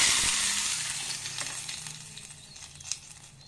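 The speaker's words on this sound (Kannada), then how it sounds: "ಈಗ ಒಗ್ಗರಣೆ ಹಾಕೋಣ." Dried chillies sizzling in a spoonful of hot coconut oil for a garlic sambar tempering, a loud bright crackle at first that steadily fades, with scattered pops and small spits near the end.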